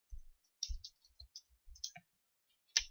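Sharp mouse clicks ring out in a quiet room while working in a Visual Studio project dialog, several scattered clicks with brief silent gaps and a louder final click.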